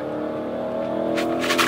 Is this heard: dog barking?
no